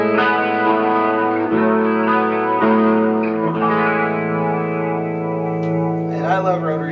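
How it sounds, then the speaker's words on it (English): A guitar pedal's slow rotary speaker effect gives sustained electric guitar chords a gentle swirling, wavering chorus-like shimmer, played steadily for several seconds up close with no talking. "This is my slow rotary sound."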